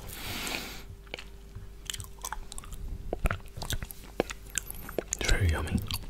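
Close, crisp bites and wet chewing of a brown sugar boba ice cream bar, with irregular crunches and squishy mouth sounds over a faint whispery hiss.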